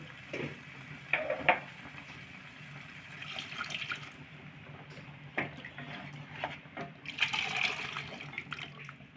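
Boiled chickpeas are tipped into a pot of cooked spice masala together with all their cooking water, giving splashing pours and a few clinks of the pot in short bursts.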